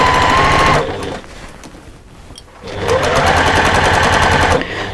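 A sewing machine stitches a seam through a bulky, wadded beach bag, running in two loud, steady bursts separated by a quieter pause of about two seconds.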